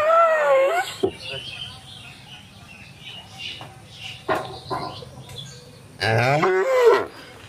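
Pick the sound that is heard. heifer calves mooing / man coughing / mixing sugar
heifer calves mooing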